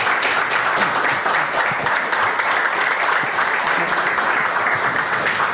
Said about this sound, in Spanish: Ahí le vamos a dar un aplauso a nuestro amigo Daniel Buglione.